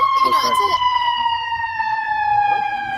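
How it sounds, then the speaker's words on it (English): Ambulance siren passing nearby, a loud steady wail with a slowly falling pitch as the vehicle moves by, with faint indistinct voices underneath. "Ambulance."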